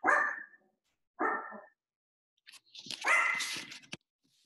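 A dog barks in three separate bursts, close and loud: two short barks, a pause, then a longer, rougher run of barking with no talk.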